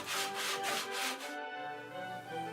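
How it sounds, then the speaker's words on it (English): Wood is rubbed by hand with grit 60 to 100 sandpaper, several quick back-and-forth rasping strokes close up, then stopping with a faint ringing tail. "Begin with your grit 60 and finish with your grit 100 sanding paper."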